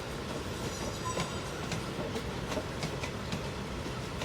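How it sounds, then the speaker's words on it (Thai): Express train No. 84 passing on a Thai southern line track near a junction station: a steady rumble of rolling wheels with rhythmic clickety-clack rail joints and faint metallic squeals, close and continuous throughout. "เข้าทาง2หลีกขบวนด่วนที่84นะครับ ตอนนี้ขบวนด่วนที่84นะครับ"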